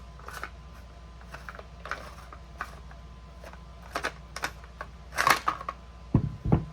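A tank is unscrewed and removed during disassembly after the barrel has been taken out. Sparse, close handling clicks and small scrapes come in irregular bursts, with no talk.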